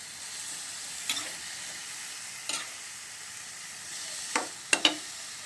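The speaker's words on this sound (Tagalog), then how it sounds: "Sisling pusit sana ito pero wala tayong sisling plate. Kaya gisado na lang." Squid sautéing in a pan with sesame oil gives a soft, steady sizzle, overlaid by a few sharp scraping stirs of the utensil against the pan.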